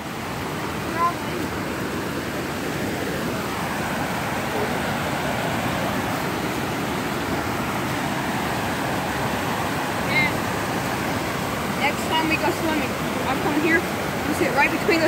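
Water rushing steadily from a natural spring at Gee Creek falls, a broad continuous splashing wash heard close and fairly loud throughout, with voices talking faintly over it.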